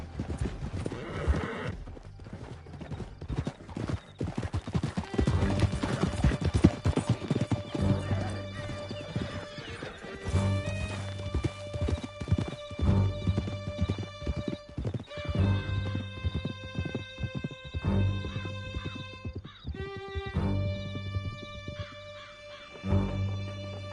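Horses galloping in the video game Red Dead Redemption 2: rapid, heavy hoof clip-clops pound continuously, with horses neighing and whinnying over a musical score, loud and close.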